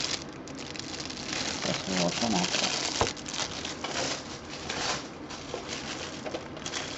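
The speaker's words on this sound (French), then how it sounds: "je suis désolée pour le bruit des poches" Plastic bags crinkle and rustle steadily while a clothing haul is unpacked, with a sharp thump partway through and someone speaking quietly over the rustling.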